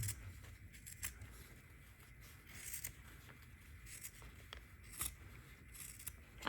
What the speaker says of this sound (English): it may be quicker to use scissors